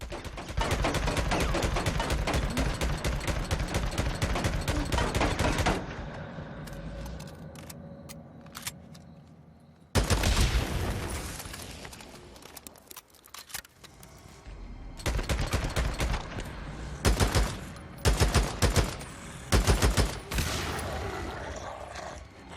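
Automatic fire from the SAF, an AK-47-style auto rifle in the video game Days Gone, comes in loud sustained bursts, breaks off into a quieter pause, then returns as rapid bursts and spaced shots.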